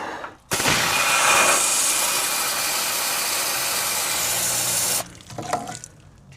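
A strong, steady hiss of water spraying from a garden hose into a vehicle frame starts abruptly, holds for several seconds, then cuts off, leaving faint splashing and dripping.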